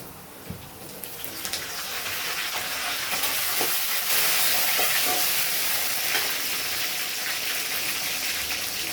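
Crushed garlic, fenugreek seeds and curry leaves frying in hot oil for a fish curry, giving a steady, bright sizzle that swells after the first couple of seconds, with a few spoon taps, close and fairly loud, no talking.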